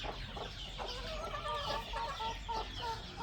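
A flock of chickens at a rural hut clucks in a steady, low-level murmur of overlapping calls, fairly faint and continuous with outdoor background noise and no talking.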